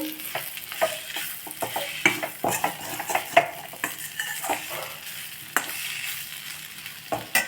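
Brinjal frying in oil as garam masala is stirred in for masala rice, with a steady sizzle under frequent scraping and clinking strokes of a spoon against the pan.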